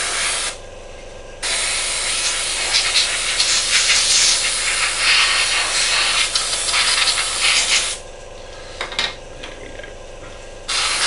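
Spray paint hissing from an aerosol can onto a model aircraft, a loud continuous close-up hiss lasting several seconds, then brief shorter bursts with gaps.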